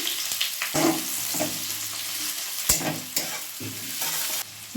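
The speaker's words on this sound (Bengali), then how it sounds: "দিয়ে দিচ্ছি পেঁয়াজ কুচি" Chopped onion hits hot oil with whole cumin in a kadai, sizzling close and steady while a spatula stirs and scrapes in irregular bursts, with no one speaking.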